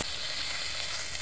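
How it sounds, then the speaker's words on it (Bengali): Four pieces of pangas fish fry in a pan, giving a steady, close, loud sizzle and hiss that runs unbroken throughout with no talk. "কি সুন্দর ভাজা হয়ে গেছে বন্ধুরা, 4 পিস মাছ, পাঙ্গাস মাছ সুন্দর ভাজা হয়ে গেছে।"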